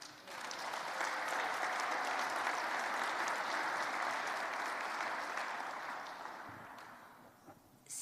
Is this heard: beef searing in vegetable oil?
no